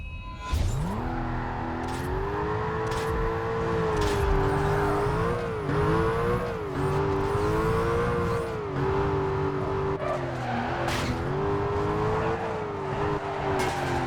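A car in the Need for Speed Carbon racing game drifts through a canyon, its engine droning steadily at high revs with repeated rises and dips, tire squeal and sharp shift blips over a continuous loud roar.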